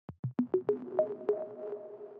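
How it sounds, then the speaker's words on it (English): A soft synthesized sine-wave pluck plays a short melody for a dark alt-pop track, about eight clean, quickly decaying notes stepping upward then settling, the later tones ringing longer and overlapping, fairly quiet and alone. "It's just a sine wave made into a pluck."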